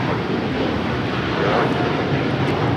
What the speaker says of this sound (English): Turkish Dreamliner now taking off.